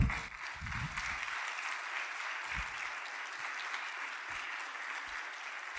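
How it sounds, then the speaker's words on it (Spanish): A church congregation's applause for the Lord during a sermon, a steady wash of many hands clapping at moderate distance that holds for several seconds, with a few faint low thumps underneath. "déle un aplauso al Señor"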